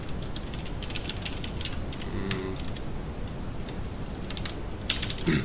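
Fingers type on a computer keyboard in a fast, uneven stream of light clicks and clacks, close and moderately loud, with no talk.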